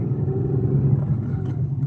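A car towing a horse box trailer pulls in on a long country lane, a low steady engine rumble close by, with people talking over it.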